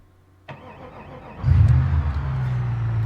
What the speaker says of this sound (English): So I'm going to start it up, and then I'm going to go into the engine bay and show you how it runs.